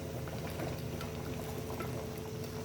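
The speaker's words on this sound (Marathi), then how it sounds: "आता त्यात गरमच पाणी घालायचं." Hot water is poured into a mutton curry, giving a soft, steady liquid rush and bubbling that continues evenly for under three seconds, faint and without talk.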